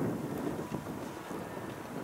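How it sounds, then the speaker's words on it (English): Strong wind gusts roaring across the microphone during a New England snowstorm, a low, steady buffeting rush with no other clear sounds. "It's still good 40-mile-an-hour wind gusts."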